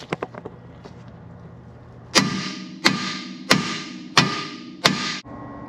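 A slightly bigger hammer strikes a ball joint on a C3 Corvette five times in an even rhythm, each blow a loud, close metallic bang with a short ringing decay, after a quieter stretch of lighter taps.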